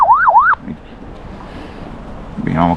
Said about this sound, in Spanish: Si lo dejamos pulsado, mirad, SOS alarma, nos emitirá una alarma.